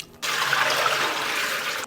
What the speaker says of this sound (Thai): ตรงนี้นะคะก็จะเป็น วุ้นเส้นนะคะทุกคนเดี๋ยวเทน้ำออกก่อน